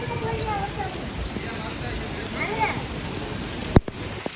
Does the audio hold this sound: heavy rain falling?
yes